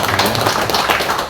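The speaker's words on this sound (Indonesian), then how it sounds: "ini tepuk tangan untuk Bunda Nina" Audience clapping for Bunda Nina at an Indonesian party mandate handover event, a short, close, uneven burst of claps and taps with a dense, noisy texture.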